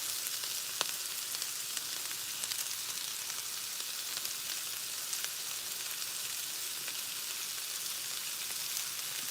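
Chunky pieces of a quick home-cooked dinner fry in a pan with a steady, close, even sizzle and crackle that runs throughout, with no clear stirring strokes standing out.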